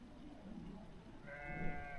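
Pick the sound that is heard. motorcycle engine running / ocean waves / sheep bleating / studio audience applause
sheep bleating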